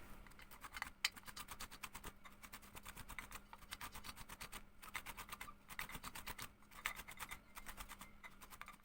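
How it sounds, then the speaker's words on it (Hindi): An ingredient is grated by hand to make a winter vitamin C night cream, giving a steady, rapid rasping patter with brief pauses throughout, close and fairly quiet, with no talking. "अब मैं इसे सबसे पहले कद्दूकश करती हूँ, फिर मैं ये सारी चीज़ें इसमें मिक्स करती हूँ।"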